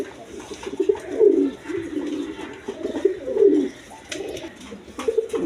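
Pigeons coo in repeated low, throaty bursts, roughly every second or two, close by, with other birds chirping faintly around them; the birds include racers and Danish breeds.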